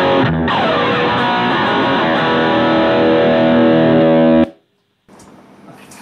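Heavily distorted guitar through a BOSS ST-2 Power Stack pedal with a booster ahead of it: one loud, thick sustained chord rings for about four seconds, then cuts off, followed by faint noise.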